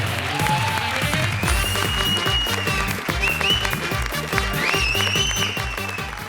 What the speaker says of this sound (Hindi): राजीव, श्वेता और सिद्धार्थ के लिए जोरदार तालियां.